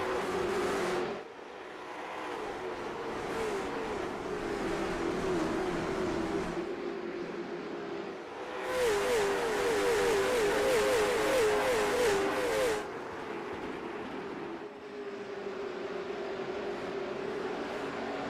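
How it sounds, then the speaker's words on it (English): Stock race cars in the iRacing sim at Nashville Fairgrounds Speedway, Winston Cup style, with engines droning and revving higher as they whiz past the camera in loud waves, each pass swelling and fading. "You can really hear these machines starting to crank up those RPMs as they come whizzing past the camera."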